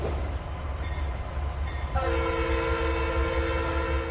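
A train running in the Trainz 2019 rail simulator, with a low continuous engine rumble and rolling noise, then a sustained steady horn blast that starts midway and holds to the end.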